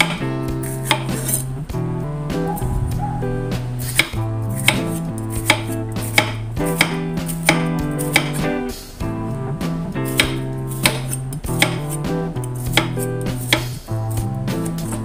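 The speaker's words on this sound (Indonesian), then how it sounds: "Iris pare sampai selesai" A knife cuts bitter gourd into thin slices on a board, producing a steady series of sharp close chopping knocks over a persistent tonal background hum.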